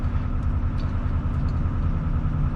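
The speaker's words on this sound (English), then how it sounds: "boat opposite me decides to run his engine to charge his batteries." A moored boat's engine drones continuously nearby, running to charge its batteries, a steady low rumbling idle with no breaks or changes in pitch.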